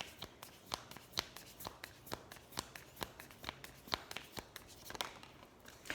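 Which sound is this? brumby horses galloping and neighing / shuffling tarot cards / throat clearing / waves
shuffling tarot cards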